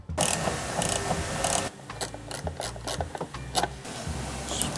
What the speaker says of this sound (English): Now I'm gonna move this over and remove the little screws over here.